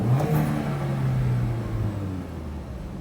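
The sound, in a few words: Audi TT engine revving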